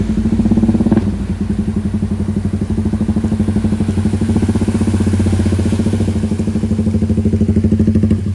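Motorcycle engine running steadily on a flooded road, a loud, close, rapid putter with a rough crackle throughout, slightly louder in the first second.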